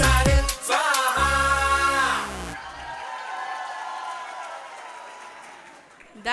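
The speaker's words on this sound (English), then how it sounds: "That was an astonishing performance. Let's give it a big round of applause to everyone." At a nursery school annual day performance, a singing voice with music gives way to a broad wash of audience clapping and crowd noise that fades gradually.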